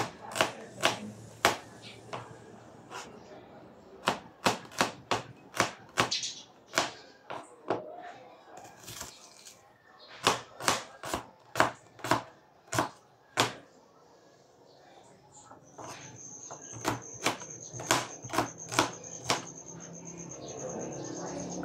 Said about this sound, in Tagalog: islice ko na yung aking sibuyas